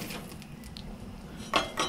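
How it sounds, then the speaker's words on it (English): A freshly washed cutting board is set down on a kitchen counter, giving a short knock and clatter near the end, with a second lighter contact after it, over a low hum from a stove that has been cooking salmon. "Went ahead and washed my cutting board. I'm going to place that right there."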